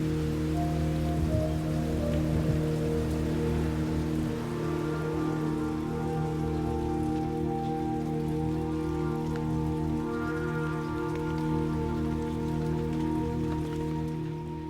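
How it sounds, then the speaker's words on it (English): Rain falls steadily on a bonsai garden in Kyoto, a soft continuous patter on leaves and stone over a low constant hum, calm and even throughout. "every stone, lantern, and wooden gate seems softened by the gentle rhythm of falling water"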